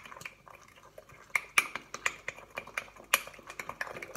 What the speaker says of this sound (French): faut pas avoir peur de touiller de ouf